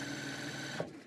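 Sewing machine running at home, a steady close mechanical hum with a rapid even stitching rhythm that stops abruptly just before the end; no talking.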